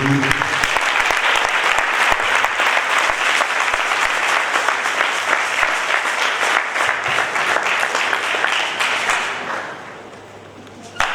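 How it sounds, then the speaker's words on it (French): Sustained, dense applause from a large crowd at an international youth convention greets the head of the Cameroon delegation, loud and steady for about nine seconds before thinning out near the end. "Est-ce qu'on peut acclamer lui?"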